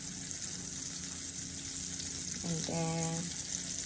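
A sweet potato burger patty fries in a pan with a steady, close hiss of sizzling oil, while a voice speaks briefly near the end.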